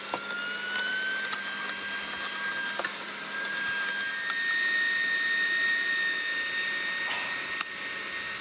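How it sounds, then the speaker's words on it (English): An electric sausage machine runs steadily while meat farce is fed through to stuff sausages in a Sami kitchen. It gives a continuous, moderately loud motor whine with a faint mechanical hum, heard alone without talk. "Put the machine on and start feeding in your farce."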